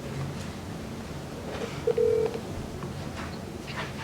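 A phone dials out to a caller named Dan during a town trustees' work session: one short, steady keypad beep over a hushed room murmur.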